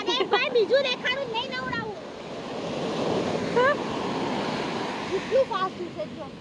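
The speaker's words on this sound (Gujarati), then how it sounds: "મોજા કંઈક વધારે જ છે આજે" Rough ocean waves wash up on a sandy beach at Daman, with a steady roaring surf and wind buffeting the microphone while people talk nearby at the start and end.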